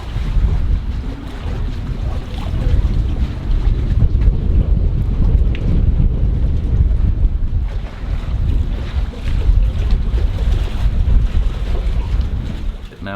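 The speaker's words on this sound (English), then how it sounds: "Now I knew that the heavy wind was going to be coming in" Heavy wind blasting across a boat tied up at a dock, a loud continuous roar with low rumbling gusts and buffeting against the microphone throughout.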